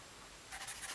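A pen scratches out a dot product on a writing surface. It is quiet at first, then a run of close, rhythmic scratchy strokes fills the second half.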